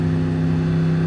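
A car engine held at part throttle around 30 mph in first gear, a steady droning hum with strong low harmonics, loud and close, unchanging over a brief moment.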